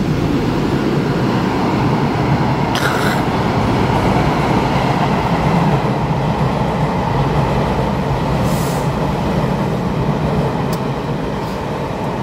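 Taiwan Railway PP Tze-Chiang express hauled by two electric locomotives with twelve PP coaches, a loud, continuous roar of wheels and rails rumbling past, with faint squeals rising briefly a couple of times.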